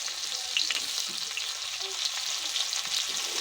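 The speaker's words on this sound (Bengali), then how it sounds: "প্রথমে গরম তেলে গরম মশলা, তারপরে তেজপাতা আর পেঁয়াজ কুচি দিয়ে ভালো করে ভেজে নিলাম" Garam masala, bay leaf and chopped onion frying in hot oil in a home kitchen for a meat curry, giving a steady, close sizzle with soft crackles throughout and occasional stirring sounds.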